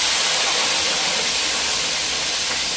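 Oil boiling hard in a pan for potato curry in a Jaffna village kitchen, a loud, dense, steady hiss and sizzle that fills the moment with no voices.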